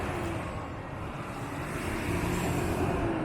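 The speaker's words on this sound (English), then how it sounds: "you would have heard that truck just leave in the background." Truck pulling away from a rural water pumping area beside a park, a low engine rumble that holds steady and swells slightly in the background, with no talk.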